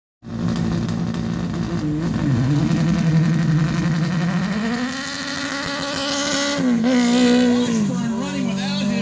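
Right-hand-drive Mitsubishi race car climbing the Mt. Washington hill climb, a loud, sustained engine roar rising and falling in pitch through gear changes, heard close and continuous.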